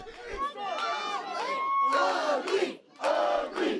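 A professional wrestling crowd in Portland yells and roars in loud bursts, voices rising and falling with brief pauses, energetic and close.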